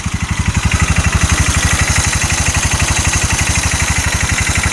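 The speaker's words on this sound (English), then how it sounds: "It's just shaking the whole engine when I do it. I can hear it just knock and knock." A UTV engine idles roughly with a loud, rapid rhythmic knocking pulse and a shaking vibration, close and steady throughout, with no voices.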